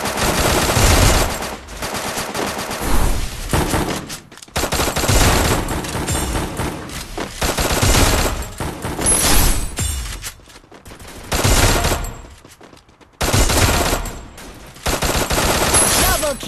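XM8 and MP40 gunfire in the battle-royale game Free Fire: loud, close bursts of rapid automatic fire in several long stretches separated by brief gaps, with game announcer calls and music faintly under the shots.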